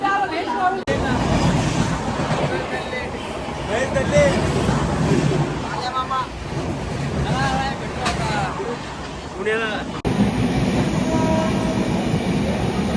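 A train rumbles and clatters along the tracks, loud and close, with voices talking over the steady rolling noise throughout.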